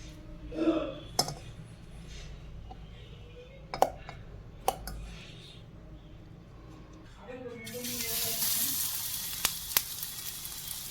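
Eggplant fritters (beguni) frying in a small amount of oil give off a soft, steady sizzle. Scattered utensil clicks cut through it, and the sizzle swells louder and brighter toward the end, with a voice talking faintly at times.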